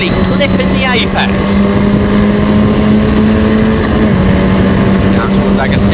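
Historic Formula Ford race cars race at Snetterton. Engines drone loudly and steadily, with one car's tone close and sustained and others whining past, under a race commentator's voice.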